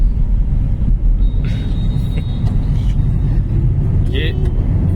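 Steady low engine rumble of a manual-transmission car moving through heavy traffic, with brief higher hisses and a faint whine from nearby vehicles.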